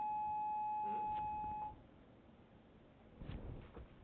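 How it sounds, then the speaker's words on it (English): A school gym alarm sounds as a steady electronic beep for under two seconds and then stops, followed by faint room noise and a brief murmur of voices. "Yeah, the gym alarm is off because it should be 1 o'clock."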